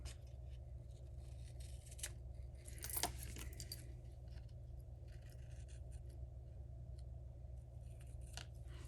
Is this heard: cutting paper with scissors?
yes